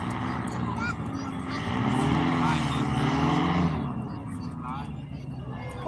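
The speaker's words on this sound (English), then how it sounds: "That plane barely moving at faster than a running pace." A small plane drones overhead at very low speed while coming in for a short landing at an outdoor event in Alaska, its steady engine hum rising and easing beneath ongoing commentary.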